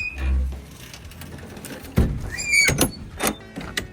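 A solid thunk of a car door shutting, followed by a few lighter knocks and rattles, fairly close with a faint background hum.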